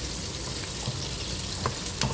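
Onions sizzling in hot oil in a pan as they are stirred for Ugandan spicy fried pork with matooke, a steady close hiss broken by a few scraping knocks from the spoon.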